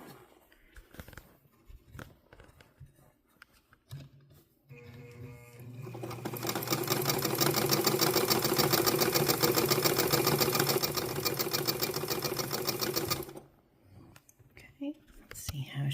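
A Necchi BU Mira sewing machine runs a straight stitch at normal length, its motor building to a steady fast whir with a rapid needle clatter for several seconds before stopping. Soft handling noises come before and after.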